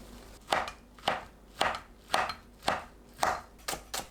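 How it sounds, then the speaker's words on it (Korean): A knife chops through a rolled-up egg sheet on a cutting board, cutting it into thin strips in steady, evenly spaced strokes, about eight crisp close cuts with no voices. "계란을 돌돌 말아 채 썰어주세요."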